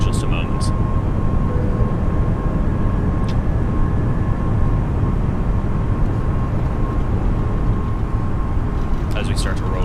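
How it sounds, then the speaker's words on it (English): An Airbus A320 rotates on takeoff and climbs away, a loud, continuous broadband engine roar and rumble that stays steady the whole time. "So that's rotation right now on the A320 and climb away"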